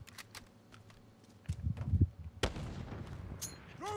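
Gunfire in Call of Duty: Modern Warfare during an online match: a few sharp shots and bursts, with a heavier rumbling volley in the middle and a loud crack near the end, over faint background game noise.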